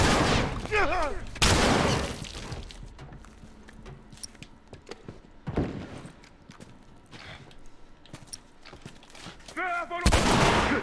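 Small-weapon gunfire in The Last of Us: three sharp, loud shots spaced a few seconds apart ring out over low game ambience, while a voice is heard briefly at the start and again near the end.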